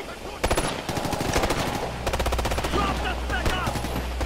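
Automatic gunfire in Ghost Recon: Future Soldier on PC: rapid, loud bursts of shots rattle close by in two long strings, with a voice briefly heard alongside.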